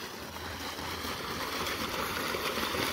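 Water gushes steadily from a pipe fed by a running farm pump motor, a loud continuous broadband rush with gurgling that holds constant and close throughout.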